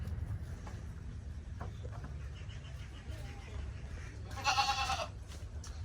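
A goat on a backyard farm bleats once, a short wavering cry over a steady low rumble of outdoor noise.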